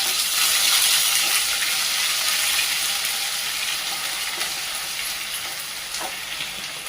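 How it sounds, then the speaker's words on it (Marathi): Finely chopped onion fries in oil with cumin, curry leaves and bay leaf, a loud, dense hiss and crackle up close that eases slightly over time, with occasional light metallic clinks from stirring. "हा बारीक जो केलेला कांदा आहे तो प्रथम आपण त्यामध्ये टाकून घेऊया"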